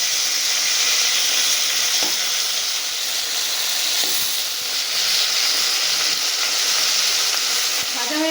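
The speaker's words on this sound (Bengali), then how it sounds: "এবার আমি মাছটাকে উল্টে অন্য পিঠ ভেজে নেব।" Fish frying in hot oil in a pan, flipped partway to cook the other side, gives a steady, fairly loud sizzling hiss throughout, broken by a few faint clicks and clatters from the utensils.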